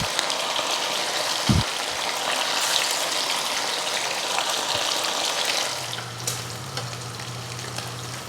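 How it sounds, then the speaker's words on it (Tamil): Anchovies with curry leaves frying in hot oil, a steady dense sizzle and crackle running throughout, close and loud, with a brief thump early and a low hum joining near the end. "மீன் பொரிச்சாச்சு"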